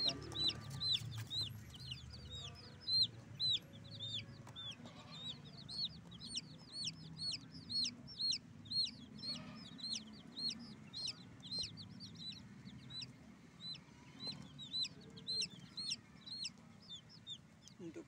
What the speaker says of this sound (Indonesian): jadi kita masukin ayam-ayamnya di dalam kandang, dalam kardus aja